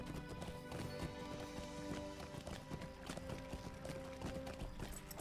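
Horse hooves clip-clop in the fantasy video game Lord of the Rings Online, a steady rapid rhythm of close, moderately loud hoofbeats running continuously with game music and ambience beneath.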